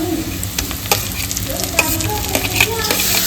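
Onions frying in oil in a pan with bay leaf and whole garam masala, a loud steady sizzle broken by repeated scraping stirs.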